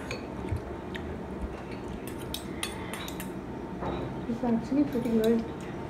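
A spoon clinks and scrapes against a bowl of spicy noodles in scattered light taps, while voices chatter nearby.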